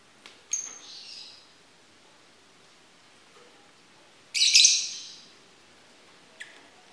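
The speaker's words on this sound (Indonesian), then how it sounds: "Jadi itu tuh lovebird betina ya," Lovebirds, a large female and a white male pair, give sharp isolated chirps and one louder squawk, close by and spaced apart against a quiet room.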